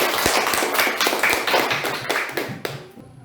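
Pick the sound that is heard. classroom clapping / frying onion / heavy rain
classroom clapping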